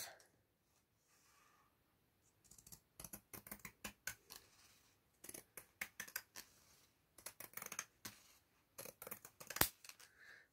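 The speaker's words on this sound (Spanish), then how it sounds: "y ahora con las tijeras de, de zigzag, ¿vale? De corte en zigzag, voy a cortar por la mitad" Zigzag pinking scissors cut through fabric in clusters of crisp, close snips, several quick crunching cuts in each burst separated by short pauses, with no talking.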